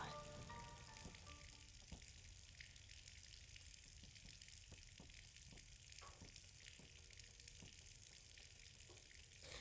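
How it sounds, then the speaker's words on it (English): Water gushing from a faucet that has just come unclogged and pouring onto a dirt floor in the game Scarlet Hollow, a steady hiss broken by scattered clicks and small splashes, faint and continuous. "The faucet in the corner of the room finally unclogged, bursts to life, and water pours out into the dirt floor"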